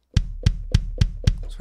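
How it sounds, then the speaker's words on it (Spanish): MLDrums Luxe line B52A drum sample: five evenly spaced punchy hits with deep low thump and bright attack, close and loud with no talk, the last one trailing into a softer tail. "Y ahora vamos a cambiarlo por un B52A, pero de la línea Luxe."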